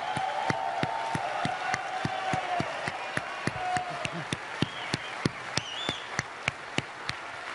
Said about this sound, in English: A big round of applause for our bikers.